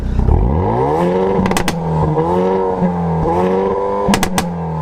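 A 2019 Hyundai Veloster N hot hatch's exhaust revs hard several times, the engine note rising and falling in loud, close bursts with a steady idle rumble between.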